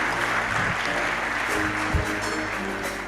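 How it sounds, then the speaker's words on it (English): Audience applause at the Ladha za Africa competition awarding ceremony, a steady wash of clapping from a gathered crowd with faint voices beneath it. "a round of applause for Dedan Kimathi"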